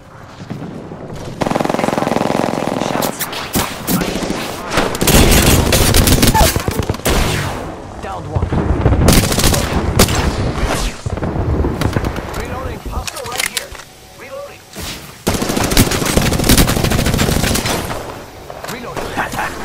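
Rapid bursts of automatic gunfire in the shooter game Apex Legends, loud and close, coming in repeated volleys with short gaps, mixed with game effects and a voice talking over parts of it.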